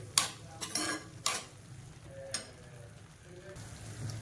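Ground onion frying in oil with masala for a chicken gravy, a steady soft sizzle under a few scraping stirs and clinks of a spoon against the pan.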